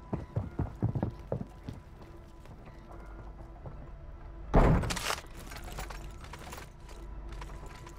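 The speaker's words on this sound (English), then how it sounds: "I hear footsteps." Footsteps in a Call of Duty match: a quick run of close, clattering steps at first, then a louder rushing burst of game noise over a low, steady background rumble.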